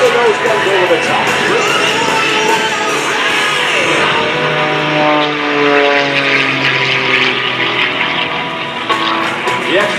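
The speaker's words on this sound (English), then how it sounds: "The extra, of course, one of the aircraft built for aerobatic competition, and you can see why." An Extra aerobatic propeller plane flies rolls at the Dover Air Force Base open house airshow in 2019. Its loud buzzing engine drone rises and falls in pitch as it maneuvers, steady throughout with a faint crowd underneath.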